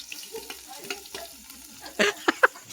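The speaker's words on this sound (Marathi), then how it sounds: "लगेच आपण तो घेऊन जाऊन टोपात टाकूया आणि थोडं ते का जरा काय बोलतात तो गरम करूया." Onion and tomato frying in a pot over a wood-fired stove at night, heard as a soft steady sizzle with faint stirring, then a few louder clattering scrapes near the end.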